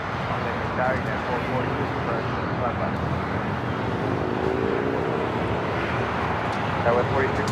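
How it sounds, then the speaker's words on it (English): A Boeing Dreamliner departs LAX bound for Sao Paulo, its broad, steady jet roar filling the air at moderate distance, with a faint voice and wind buffeting the microphone. "we got the Dreamliner now heading to Sao Paulo, Brazil"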